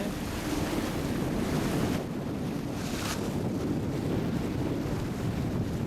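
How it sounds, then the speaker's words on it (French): Wind and waves on a sailboat heading from Cape May toward Chesapeake City, a constant loud roar of wind noise and surf washing around the hull with no voices. "On a toujours un bon vent qui nous garde."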